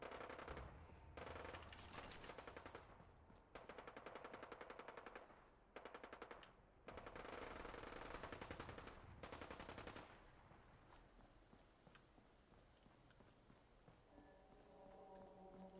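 Automatic gunfire from the Fallout 4 video game, rapid bursts in several loud stretches separated by short gaps, then fading to quieter ambient game sound with a faint tonal element near the end.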